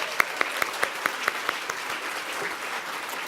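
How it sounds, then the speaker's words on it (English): Applause at a Scottish charity awards ceremony, with a few distinct, evenly spaced claps standing out over a softer crowd wash before the clapping thins and fades. "Give him a special round of applause again."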